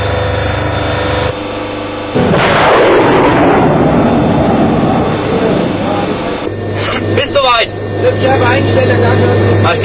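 Artillery guns at a firing range going off in heavy, booming blasts with long rumbling decay, loud and close, with people talking over the noise.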